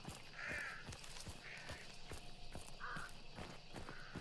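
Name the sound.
ravens cawing in the video game Hunt: Showdown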